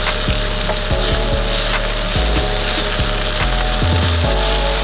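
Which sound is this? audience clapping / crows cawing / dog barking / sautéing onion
sautéing onion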